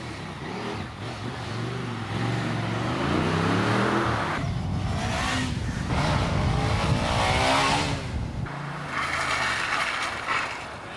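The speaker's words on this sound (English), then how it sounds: "This burnout resulting in being pelted with ice cubes." A motorbike doing a burnout roars with a sustained, rising engine note and screeching tyre squeal, loud and close, wavering in pitch as the revs climb and dip over several seconds.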